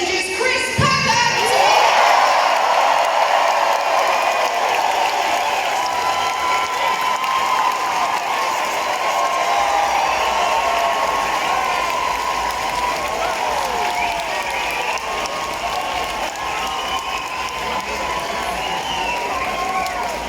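Sustained applause mixed with cheering and whoops from an outdoor festival crowd at a vegan campout in the UK, loud and continuous throughout as a speaker is welcomed onto the stage.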